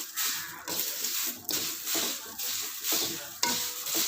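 Dried curry leaves roasted and stirred in a pan, producing a steady dry rustling and scraping with a regular stirring rhythm, close and fairly loud, with no talking.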